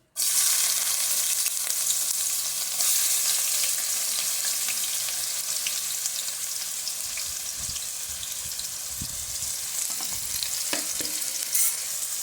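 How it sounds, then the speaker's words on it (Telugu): Chopped onions hit hot oil and fry with a loud, dense, continuous sizzle that stays strong throughout, with a few soft stirring knocks near the end and no speech. "కట్ చేసుకున్న ఆనియన్స్ ఆయిల్లో వేసుకుందాం."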